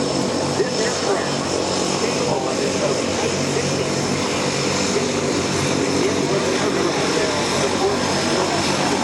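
A MiG-17 jet at an air show roars steadily and loudly throughout, a broad continuous engine rush, with a public-address voice talking over it.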